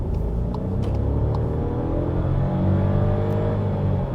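A 2022 Seat Ibiza's small three-cylinder turbo engine pulls steadily under acceleration, its low droning rumble mixed with road and tyre noise heard from inside the car, with no talking.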